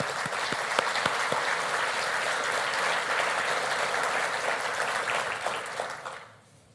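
Sustained applause from an audience at a city address in Davenport, steady and full for about six seconds before fading out at the end.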